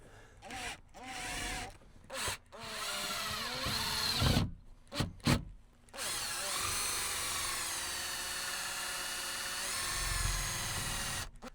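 A screw gun drives screws into a felt wall panel inside a Ford Transit van, with several short whirring bursts followed by one long, steady high-pitched run, close and loud, as a voice talks briefly at the start.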